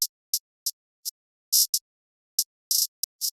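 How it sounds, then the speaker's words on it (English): Drill-beat hi-hat pattern run through an Effectrix glitch effect: crisp, bright ticks in an irregular, stuttering rhythm, some single and some in short bursts and rolls, played alone against silence. "the hi-hat pattern ended up sounding like this"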